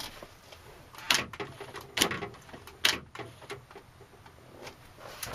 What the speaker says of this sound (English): And now I'm going to try unlocking the door.